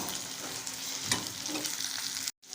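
Steady bubbling and sizzling from a sauce boiling in a pan on the heat, continuous and close, with a brief stir-like clatter partway through and a short cut near the end.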